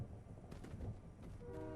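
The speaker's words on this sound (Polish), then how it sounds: "Tam jedzie pociąg." A train passes in the Fortnite video game, a faint, distant rumble with a brief rhythmic clatter and a horn-like tone near the end.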